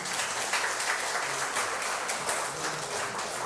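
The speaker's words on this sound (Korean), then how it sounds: "권희성 교우님이 잠시 방문하신 것 같은데 박수로 환영했으면 좋겠습니다." A church congregation applauds during a Sunday service to welcome a returning visitor, a steady wash of clapping held at an even level throughout, moderately loud and without talk.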